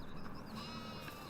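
Sheep bleating in Farming Simulator 15, a faint, wavering animal call repeated a few times over a steady low hum of farm ambience.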